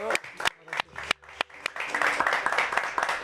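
Studio applause on a Mexican radio and TV music program, starting as scattered sharp claps and swelling into steady, dense clapping from a small audience.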